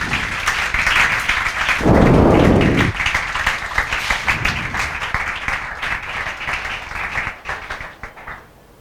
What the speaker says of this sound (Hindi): शुभम तोमर के लिए जोरदार तालियां